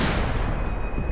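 Dual revolvers fired in the shooter Max Payne 3, a dense, loud blast of gunfire that fills the short moment with no speech.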